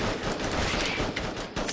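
Rapid gunfire in the Attack of the Movies 3-D video game as a scorpion is shot, a dense crackling burst of game shots running steadily and loudly throughout.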